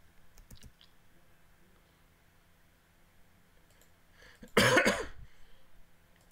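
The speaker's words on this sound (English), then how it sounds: "Sorry about the cough." A single sharp cough bursts out near the microphone from a person with allergies, loud and brief against an otherwise quiet room with faint clicks.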